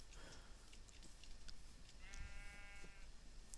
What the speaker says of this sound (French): il y a des moutons, ça c'est pas mal